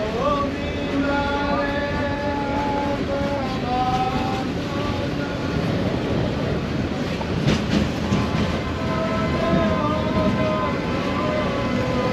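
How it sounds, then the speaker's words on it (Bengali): A local train on the Dhaka to Narayanganj line pulls out of Gendaria station, its wheels rumbling and rattling over the rails in a steady, loud drone with faint high squeals from the track. "এই গেন্ডারিয়া থেকে ট্রেনটি ছাড়লো"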